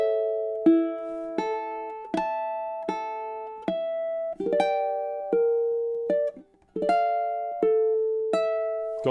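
Ukulele picking four measures of Chopin's Nocturne Op. 9 No. 2, a slow melody of clear plucked notes over arpeggiated chords, each note ringing and decaying, played close, with a brief pause midway.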